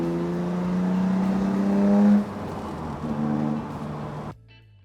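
A BMW E30 325 six-cylinder sports sedan engine droning and revving at speed, rising in pitch, easing off, then cutting out abruptly near the end.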